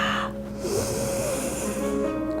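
A forceful breath blown out during a gentle yoga flow, a steady airy whoosh lasting about two seconds over a faint background hum, with a short snort-like onset, close and alone.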